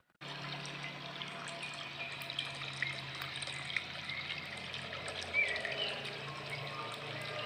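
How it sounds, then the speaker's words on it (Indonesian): Steady, soft flowing water with a gentle continuous rush, faint and even throughout, no voices. "Air mengalir dari gunung ke pantai."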